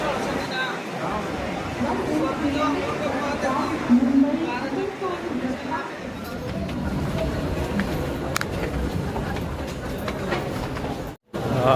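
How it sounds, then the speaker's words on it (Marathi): A train arriving at a packed station rumbles and rattles steadily nearby amid a dense crowd murmur, the noise holding loud for the whole stretch. "जाम गर्दी ट्रेन स्लायडिंगला लागून लागून येत होती"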